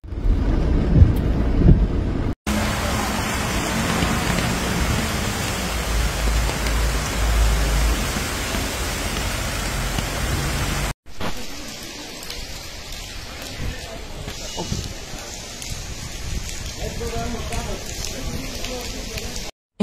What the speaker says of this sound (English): Mostar was hit by a severe storm last night, accompanied by heavy rain, thunder and gale force winds.